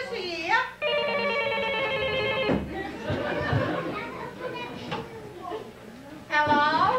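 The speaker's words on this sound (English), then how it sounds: "Now, answer the phone, Liz." A telephone rings in short repeated electronic trills at the start and again at the end, with busy crowd chatter and voices between the rings.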